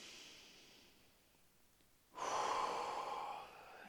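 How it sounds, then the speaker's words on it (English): A deep inhalation during a progressive muscle relaxation exercise: after a quiet stretch, one strong, breathy intake of air swells up suddenly and holds steady, close and clear, with no talking. "take a deep breath in,"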